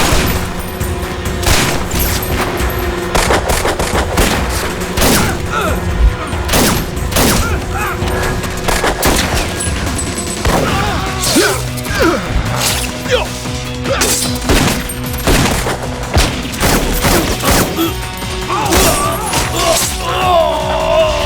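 Rapid bursts of gunfire crack through a loud, chaotic action scene from a Tamil-dubbed Hollywood ninja movie, with repeated crashing impacts and booms over a dense score, and shouting voices breaking in.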